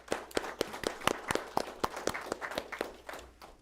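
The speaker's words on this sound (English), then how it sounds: "Let's give them a round of applause." A few people clap at a city council meeting, the separate, uneven handclaps standing out sharply rather than blending into a full wash of applause.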